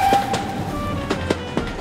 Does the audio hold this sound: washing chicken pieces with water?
no